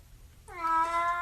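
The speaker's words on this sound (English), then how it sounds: "What is your problem, you weird cat?" A single cat meows once, clear and close, a drawn-out tonal call rising out of quiet room noise.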